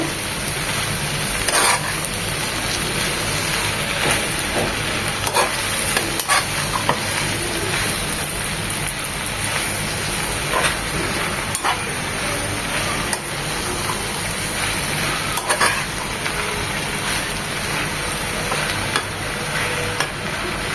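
Malabar spinach and small shrimp are stirred in a frying pan, giving a continuous dense sizzle like steady rain, with scattered scrapes and clicks of the spatula throughout and nobody speaking.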